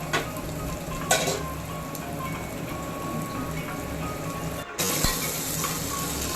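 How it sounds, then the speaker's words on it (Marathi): Whole spices, bay leaf and black pepper, sizzle steadily in hot oil, a dense even frying hiss with a couple of brief clinks and a short dip near the end before the crackle returns. "हा खडा मसाला आपण गरम तेलामध्ये टाकलेला आहे. तेजपत्ता, काळी मिरी,"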